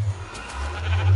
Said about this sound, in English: Give me wool, you sheep.